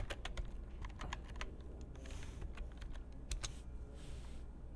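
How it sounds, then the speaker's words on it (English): Rapid keyboard typing as a logarithm calculation is entered, a steady run of close, crisp key clicks with short pauses and no voices. "So let's type it in, log of 71 over 180"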